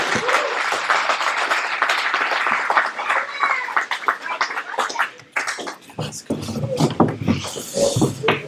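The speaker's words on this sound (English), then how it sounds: "So give Chandler a round of applause." An audience at a graduation ceremony breaks into loud, sustained applause, dense clapping filling the room before thinning into scattered claps near the end.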